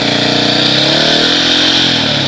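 A 2017 Husqvarna 701 Enduro motorcycle pulls away from a dead stop in first gear, its single-cylinder engine loud and close, pitch rising steadily as it accelerates.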